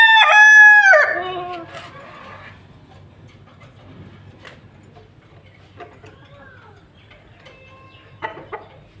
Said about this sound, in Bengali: একটা পাহাড়ি মুরগ,